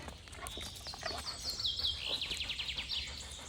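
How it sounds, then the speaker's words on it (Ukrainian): Bright bird chirps and a rapid trilling song ring out in a forest over a low, steady outdoor rumble, fairly close. "Йдеш стежкою лісу, співають пташки"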